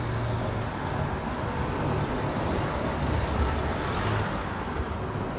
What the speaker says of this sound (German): Das ist das Geräusch vom Auto, was Sie da gerade gehört haben, nicht vom Motorrad.